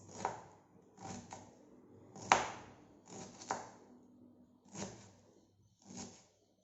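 A knife chops washed ginger into small pieces on a board, with half a dozen soft, evenly spaced thuds in a quiet kitchen.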